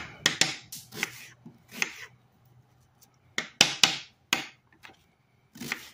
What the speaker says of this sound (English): So let's get this onion chopped up just a little bit.